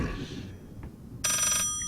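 A telephone in the horror game Layers of Fear rings once with a bright electronic bell trill, brief and fairly clear after a quiet ambient lull.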